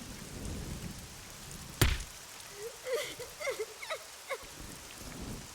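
Rain falls steadily on a garden in a video game. A soft, continuous wash of rain carries a sharp crack partway through, with faint voice-like sounds above it.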